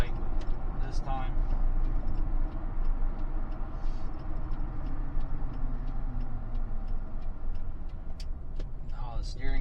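A 2005 Ford F150 pickup engine running smoothly on a road test, a steady low drone of engine and road noise inside the cab with light ticking and faint voices now and then.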